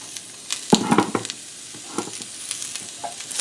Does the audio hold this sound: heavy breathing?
no